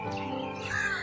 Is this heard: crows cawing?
yes